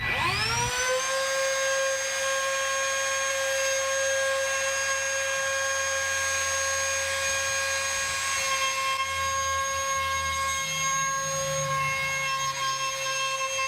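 A router with a down-cut spiral bit spins up and cuts a rosette channel in an acoustic guitar top, giving a loud, steady high whine with ringing tonal overtones and a rougher cutting texture under it.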